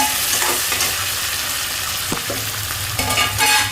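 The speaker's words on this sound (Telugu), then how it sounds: "ఇప్పుడు టమాటా వేసేస్తున్నాను." Tomatoes dropped into hot oil for an egg curry set off a loud, continuous sizzle close by, with scattered spoon scrapes and stirring knocks over the top and no talking.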